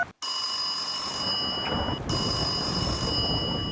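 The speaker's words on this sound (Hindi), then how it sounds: "आपका फोन बज रहा है।" A telephone rings in a 3D animated Hindi children's cartoon: a continuous bright electronic ring that starts after a brief silence and carries on alone, loud and close.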